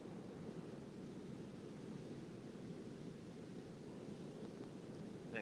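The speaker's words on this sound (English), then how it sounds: "these waves keep getting a little bigger than I'm expecting" Ocean waves wash onto a beach in a steady, broad rushing roar, continuous and moderately loud, with wind noise and no voices.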